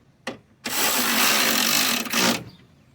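A tool runs in one loud, continuous burst of about two seconds, preceded by a short click, while 10mm bolts are tightened on the fan shroud of a 4.2 Vortec engine.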